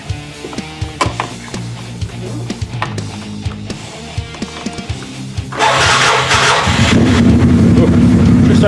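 A 2012 Buick Wildcat engine cranks with a few ticking clicks, then catches and settles into a loud, steady idle, heard close up.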